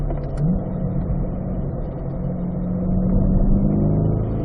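A car accelerating hard in third gear on a race track, its engine note loud, close and steady, rising slightly in pitch across the pull with no talk over it.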